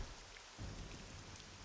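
Wind and rain in the video game Morrowind, in the town of Balmora: a faint, steady hiss of rainfall with a low rumbling gust swelling partway through, alone without speech.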